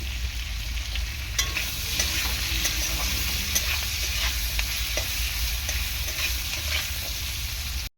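Green chilies go into a frying pan of small mourala fish, himche greens, potato and turmeric, over a loud, continuous sizzle with repeated scraping stirs that cuts off abruptly at the end.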